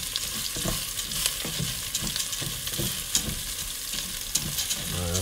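Rice toasting in a pan for a butternut squash and bacon risotto, a steady dry sizzle broken by repeated scraping stirs of a utensil across the pan, close and continuous with no talking.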